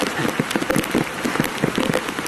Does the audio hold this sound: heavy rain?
yes